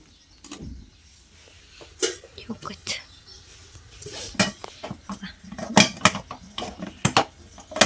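Metal pots and dishes are handled in a home kitchen while idli sambar is cooked, giving sharp clanks and clatters in irregular bursts that grow busier toward the end, with household talk in the background.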